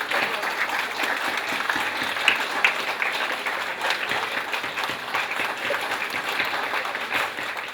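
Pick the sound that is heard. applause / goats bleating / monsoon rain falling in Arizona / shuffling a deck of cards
applause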